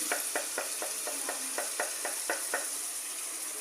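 Onion and chili paste sizzles in a pan under steady frying hiss, while a spoon scrapes through it in about ten regular, evenly spaced strokes.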